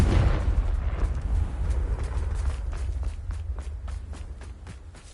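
A Confringo blasting spell going off in Hogwarts Legacy, a heavy booming blast that rumbles low and fades over several seconds, with faint scuffling steps and crackles trailing after.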